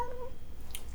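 A cat meows once, short and close, at the very start, followed by quiet room tone.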